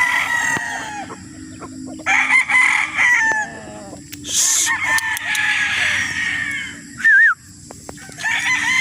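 Several roosters on a gamefowl farm in Roxas crow loudly and close by, one long cock-a-doodle-doo after another, with overlapping clucks and other fowl calls in between.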